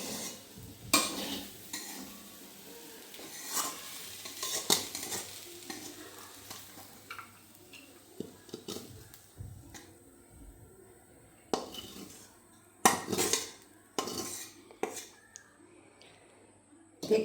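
Fried small river fish and potatoes lifted out of a pan, with scraping spoon strokes and clinks against the pan over a faint, fading sizzle; several sharp bursts of utensil noise, close by.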